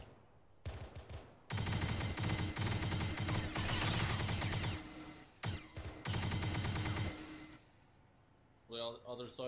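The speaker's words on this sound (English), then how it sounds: "We're just shooting to suppress." Sustained bursts of suppressing automatic gunfire in the Arma 3 video game, loud and rapid with brief pauses between long strings, with a short voice near the end.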